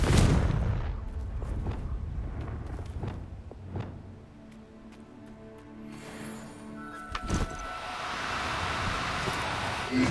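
The Confringo fire spell from the video game Hogwarts Legacy goes off amid a dense run of booming blasts and sharp cracks over a steady windy rumble, with one loud, clear explosion standing out near the end.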